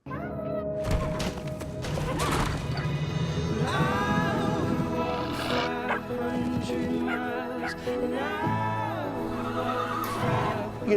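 Budweiser Clydesdale horses whinny with rising and falling calls in a Super Bowl commercial, heard beneath a loud, full musical score that runs throughout.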